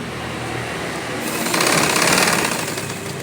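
An electric sewing machine stitches fabric from the inside of a sleeve cuff in a rapid, loud, buzzing rattle that picks up speed midway and stays close and steady to the end.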